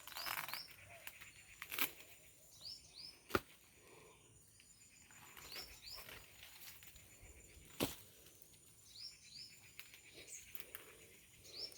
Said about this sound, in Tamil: அப்படியே இந்த குருவி கத்துறது